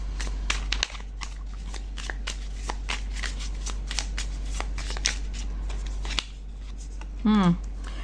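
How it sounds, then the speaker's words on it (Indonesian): Tarot cards are shuffled and drawn in a steady run of crisp riffling and slapping snaps, close and continuous, with a brief voiced sound near the end. "Coba aku tarik beberapa kartu lagi untukmu"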